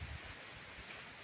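Rain falling steadily on a tarp or roof outside a dormitory house, a soft continuous hiss that is faint and even over the short moment.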